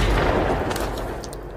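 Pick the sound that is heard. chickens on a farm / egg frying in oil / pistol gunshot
pistol gunshot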